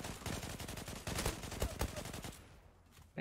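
Rapid bursts of automatic gunfire crackle from an online first-person shooter, Zula, packed into dense repeating shots for about two seconds before trailing off into quieter game ambience.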